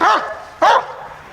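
A police dog gives two loud, sharp barks close by, with a brief gap between them.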